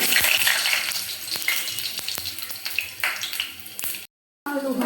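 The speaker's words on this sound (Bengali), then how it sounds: "তেল গরম হয়ে গেছে, এখন দিয়ে দেব আলু।" Potatoes drop into hot oil and fry with a loud, dense sizzle and sharp popping crackles, followed by a brief silent gap and then the sizzle again.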